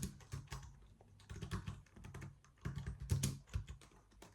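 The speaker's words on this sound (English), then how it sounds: "I should actually start typing more without looking at the keyboard" Steady typing on a computer keyboard, with quiet, irregular keystroke clicks in a continuous flurry, heard alone at a low level without speech.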